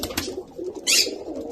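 Two rescued pigeons making soft low coos close by, with a brief flutter or rustle partway through and no talk.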